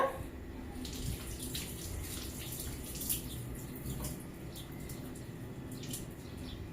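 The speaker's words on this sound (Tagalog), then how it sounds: "I can hear the water is dripping." Water runs steadily from a faucet at home, a continuous close rushing flow with faint splashes and no voices over it.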